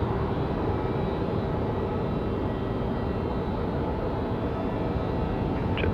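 Cathay Pacific jet aircraft at Sydney Airport, a steady broadband engine roar heard from a distance, constant and unbroken with no voices.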